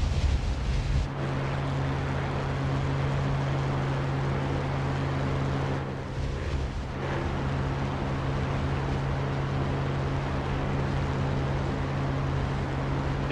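Supermarine Spitfire IX engine taxiing in a flight game: a steady droning rumble held for the whole stretch, close and continuous, with a brief dip partway through.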